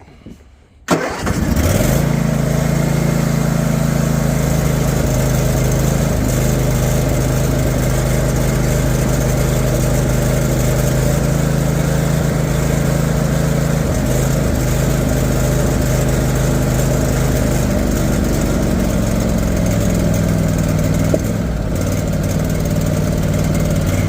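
A Husqvarna zero turn mower engine is cranked and catches after a brief start, then idles loudly and close with an uneven, lumpy running note for over twenty seconds. There is no talk.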